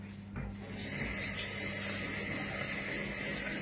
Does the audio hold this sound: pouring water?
yes